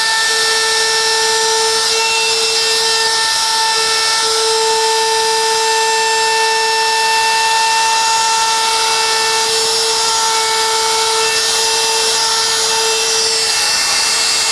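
A handheld power tool, likely a rotary carving bit, cuts into a wooden sign with a steady high whine and a gritty grinding hiss that runs unbroken and close for the whole stretch.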